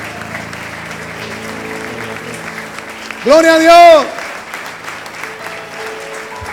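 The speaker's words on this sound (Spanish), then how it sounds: "Alguien levante ese aplauso al Señor." A church congregation at an autumn retreat service applauds with steady, dense clapping, while a loud voice briefly shouts over the applause partway through.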